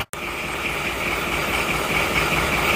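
Daihatsu Taft GT engine idling close by, a steady mid-pitched rumble with faint knocking texture after a brief dropout at the start, running evenly throughout.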